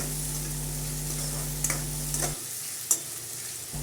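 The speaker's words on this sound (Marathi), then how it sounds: "कांदा चांगला लालसर होईपर्यंत शिजून घ्यायचा आहे" Onions with salt and asafoetida frying in a pan, making a steady close sizzle over a low hum that cuts out partway, with a few light stirring clicks.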